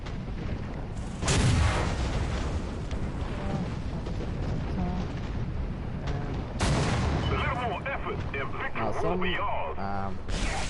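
Gunfire and heavy booms from the War Thunder video game, with bursts of shots and explosive blasts over a dense, continuous battle din, loud and close.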